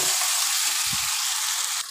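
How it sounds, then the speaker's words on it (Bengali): Koi fish sizzle steadily while sautéing in hot oil with spices, a close, continuous frying hiss with a soft stirring bump partway through. "এবার একটু 2 মিনিট এই মশলার সঙ্গে তেলের সঙ্গে কষাবো মাছটাকে।"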